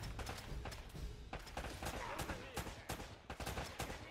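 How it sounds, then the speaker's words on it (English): Rapid gunfire crackles through a firefight in Uncharted: Drake's Fortune, dense overlapping shots in quick bursts with barely a gap, loud and continuous. "I'm taking a lot of shots."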